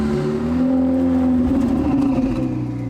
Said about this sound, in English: And with the sound of a 488 challenge car in the background